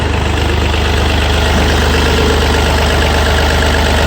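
A Yanmar 3TNV88 diesel engine idles with a loud, steady, close-up rattle and an even low throb, running alone with no talk over it.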